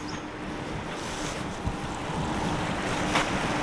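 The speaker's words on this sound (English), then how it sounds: "So you've got the River Don coming down here." The River Don flows steadily past, a continuous rushing wash of water heard close and alone, with wind buffeting the microphone.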